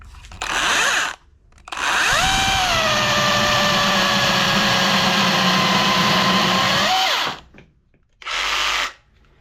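A mini chainsaw cuts through a fresh tree branch about three inches thick: a short rev, then a loud close sustained buzz whose pitch dips under load for several seconds before releasing, followed by one more brief burst.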